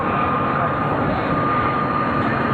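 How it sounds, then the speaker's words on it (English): A C-17 jet cargo aircraft roars overhead at an air show, a broad, steady engine rumble with a faint tonal whine, heard at a distance and without a break. "C-17's coming back around."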